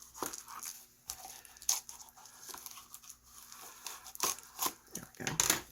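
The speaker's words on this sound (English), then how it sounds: "they just don't like cutting this plastic" Scissors crinkle plastic packaging with sharp snipping and tearing sounds in irregular bursts, close by, with short pauses between cuts.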